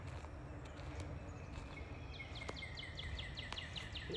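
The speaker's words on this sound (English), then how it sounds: "As you can see, I could hear this bird." A bird sings on a morning in an African village, a run of quick repeated chirps that starts partway through and continues to the end. It is faint and distant over a soft outdoor background, with no talking.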